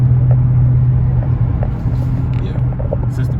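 A Dodge car's engine while driving, a loud, steady low rumble and drone inside the cabin with faint road noise, no voices.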